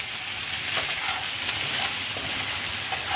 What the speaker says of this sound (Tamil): இதை நல்லா அப்படி இலக்கி கொடுத்துட்டு அந்த எண்ணெயில் கலந்து வதங்கணும்